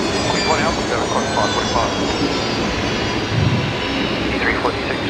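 An aircraft taking off at Brisbane Airport, a loud sustained engine roar with a broad steady rumble and a faint rising whine, with indistinct voices underneath.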